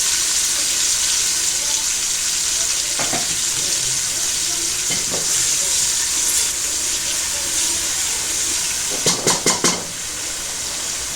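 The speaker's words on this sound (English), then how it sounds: "Then I'm going to be adding the diced onion. So just stir it and let your seasoning cubes dissolve in the oil." Diced onion frying in oil with dissolving seasoning cubes for Nigerian jollof rice, a loud continuous sizzle with occasional stirring scrapes and a quick run of clinks near the end.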